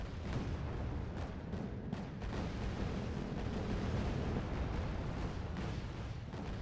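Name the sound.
missile salvo firing in a video game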